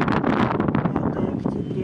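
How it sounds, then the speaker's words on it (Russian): Steady, loud wind buffeting a microphone, a continuous broadband roar with gusty rumble and no clear pauses. "Ветер очень сильный у нас."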